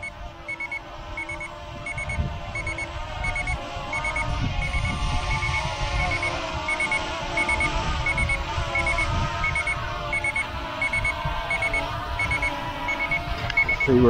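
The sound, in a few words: drone controller low power alarm beeping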